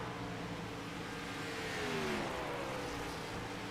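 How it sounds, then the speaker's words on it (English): Race car engine in the SimBox sim racing game at a Salt Flat Racing Cup event, a steady loud drone that climbs in pitch as the driver pushes hard, with faint whine layered over continuous engine roar. "You can hear how Josiah is really having to pedal that car."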